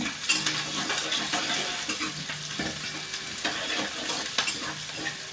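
Chopped onion with green chilli sautéing in a pan over a high flame, a continuous close sizzle with repeated scraping and clinks of a spatula stirring against the pan, no one talking.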